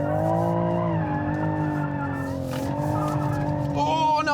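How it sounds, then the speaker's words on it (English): Toyota Supra drifting on a track with electronics off, rear-wheel drive, tires squealing in long sustained wails over a steady engine drone, shifting pitch as the car changes direction, with a voice briefly present. "I'd like to see a bit more angle on the change of direction through the second drift"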